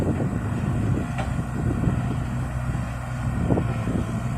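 Strong wind roaring outdoors after a storm, a loud, continuous buffeting rush that batters the microphone with low rumble throughout, no other sound standing out.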